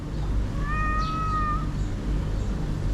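A single cat from a household of Egyptian street cats gives one clear, drawn-out meow of about a second, close by over a low background rumble, with no talking.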